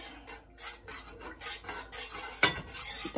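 Agar-agar powder and water being stirred in a cooking pot, a spoon scraping and clinking against the metal in a steady back-and-forth rhythm, close and moderately quiet, with one sharper knock near the end.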